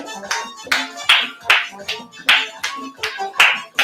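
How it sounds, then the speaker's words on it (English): Hands clap in a steady rhythm, about ten crisp claps at close range, each followed by a brief quiet gap, during a Havana-style dance practice. "Remember, you can start doing with the clapping."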